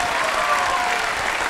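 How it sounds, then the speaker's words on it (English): A crowd applauds steadily at a squash final, the CCI International 2017, after a long rally, with continuous broadband clapping filling the hall at a constant loud level and no voices. "applause of the crowd."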